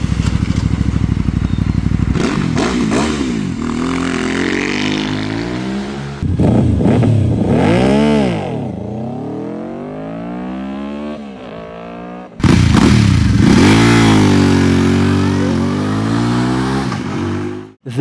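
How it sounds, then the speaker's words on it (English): A Benda 707 V-twin motorcycle engine revs hard in three loud bursts, each climbing and falling in pitch, with a brief lull between them and nobody speaking. "This V-twin sounds like nothing else."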